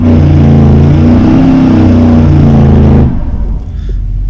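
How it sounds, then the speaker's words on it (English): A car engine revs hard outside, a loud low droning roar with strong harmonics that holds for about three seconds and then cuts off abruptly, leaving quieter background. "someone's revving their engine or something"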